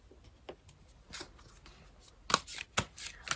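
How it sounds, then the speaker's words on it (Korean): Tarot cards are shuffled and drawn by hand, with soft scattered rustles and light flicks that grow into a few sharper snaps and slaps near the end, close and quiet. "이유를 조금 더 자세하게 추가 카드로 뽑아볼게요."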